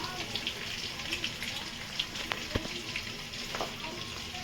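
Capsicum fries in white cooking oil in a pan with a soft, continuous sizzle and small pops and spatters, and a voice speaks faintly nearby.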